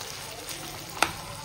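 Food frying in oil in a pan, a soft continuous sizzle with one brief sharp clink partway through.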